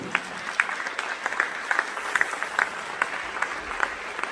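An audience claps steadily, a dense patter of many hands applauding at moderate distance, continuous throughout without cheering.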